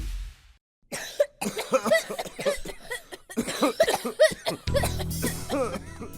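Several dry coughs burst out one after another, close and loud, in a radio advertisement for cough medicine, followed by a low hum and a shorter broken sound at the end.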